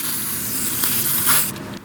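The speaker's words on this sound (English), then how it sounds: "And I'll spray some grease on these gears." A spray can of white grease hisses in a steady close burst for over a second onto mower gears, with faint clicking underneath, then the spray stops.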